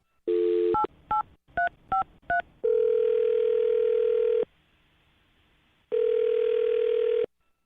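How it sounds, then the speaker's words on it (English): A telephone dials a number with a quick run of short touch-tone beeps, followed by longer steady tones separated by a pause, clear and close, with no talking. "I'm going to dial his phone number right now and get him on the phone"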